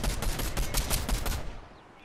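Rapid video game gunfire bursts crackle loud and close in a quick repeating rhythm for over a second, then cut off and fade into a quieter tail.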